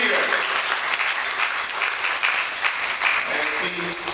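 Dense, steady clapping from a sizable church congregation, loud and sustained throughout, with a few voices faintly mixed in near the end.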